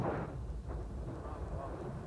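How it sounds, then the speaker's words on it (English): Marine artillery firing on a Cuban strongpoint beyond a hill: a faint, dull, continuous rumbling boom heard from a distance. "Marines artillery engages a Cuban strongpoint beyond the hill"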